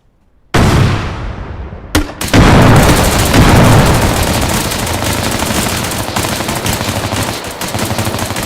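A frag grenade blasts in a tactical shooter game, a sudden loud boom followed by a second crack and a sustained roar of rolling gunfire and rumble that stays dense and heavy to the end.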